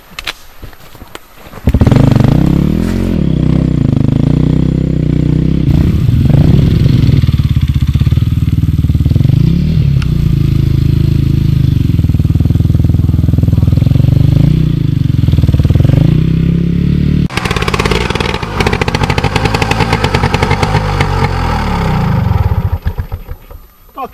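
A motorcycle engine runs loudly and close by, its pitch rising and falling as it revs, with a clattering burst near the end.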